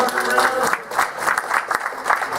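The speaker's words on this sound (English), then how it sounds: "big round of applause for Jason Hadrick and Brendan McKeegan" Audience applause at a comedy battle event, a dense, steady wash of many hands clapping at moderate level, with some cheering and voices mixed in.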